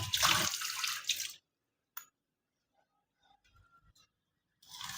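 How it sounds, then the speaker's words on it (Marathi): Water pours from a tap into about 80 grams of jaggery for a syrup. A loud rushing stream lasts over a second, then a quiet stretch with faint clinks, and a second burst of pouring at the end. "आता मी त्याच्यामध्ये थोडंसं पाणी टाकून घेते"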